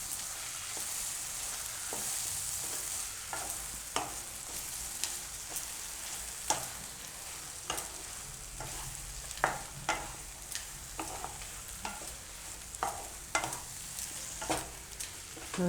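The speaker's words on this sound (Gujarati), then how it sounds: "તો આમાં આપણે સિંગદાણાનો ભૂકો નાખી દઈશું અને મિક્સ કરી લઈશું." A capsicum and onion curry with crushed peanut powder is stirred in a pan over steady frying sizzle, with sharp spoon scrapes and clicks recurring every second or so and no talk.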